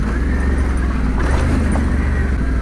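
A Yamaha Tenere 700 adventure motorcycle rides off-road single track like an enduro bike, its steady low engine drone and rumble continuous and close throughout, with wind and terrain noise layered on top.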